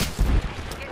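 Gunfire in the battle royale shooter Apex Legends comes as a short, loud burst of rapid shots in a noisy, brief moment.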